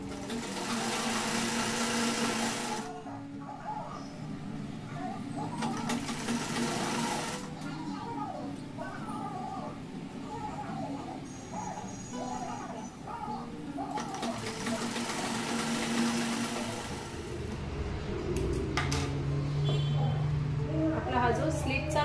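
Sewing machine stitching the slit portion of a cotton A-line kurti, steady mechanical whirring in several bursts with short pauses between, close and moderately loud, with a person talking over parts of it.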